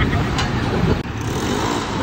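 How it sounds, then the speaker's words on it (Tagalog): Dense, steady roar of cars and motorbikes passing close by on a busy road, with a brief dip partway through. "Murag daghan naman tag mga sakyanan ug mga motor nga nakit-an diri ah"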